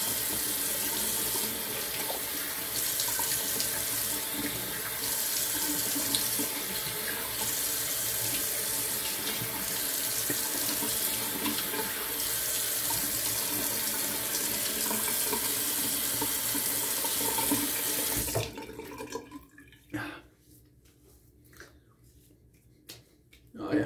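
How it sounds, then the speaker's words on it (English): A bathroom tap runs steadily into a sink to rinse off after a straight-razor shave with a Palmolive shave stick. The water is loud and continuous for about eighteen seconds, then cuts off, leaving faint quiet handling sounds. "Let me go ahead and rinse."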